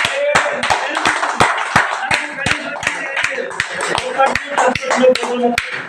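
Audience applause at a speech in Narendrapuram, a rapid stream of sharp hand claps from a nearby crowd, steady and dense throughout, with voices faintly mixed in.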